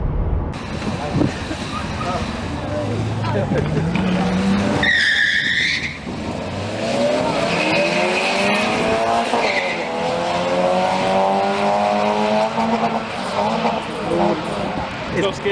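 A Citroen BX 16V races at Santa Pod with a loud engine roar that revs and shifts in pitch, then a gap and a new climbing rev, while voices talk over it.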